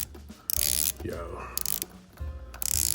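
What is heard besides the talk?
Longines HydroConquest watch bezel rotating and clicking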